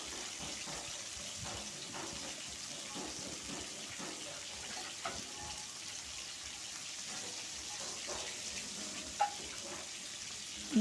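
Fish for a kochu shak dish fries slowly in oil over a low flame, giving a faint, steady, soft sizzle with a few small pops, quiet and continuous throughout.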